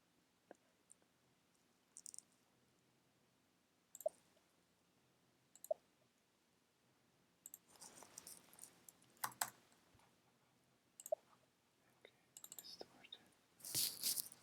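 Sharp, quiet computer clicks arrive singly and in short clusters against near silence, sparse at first and growing busier toward the end, with faint whispery sounds between them.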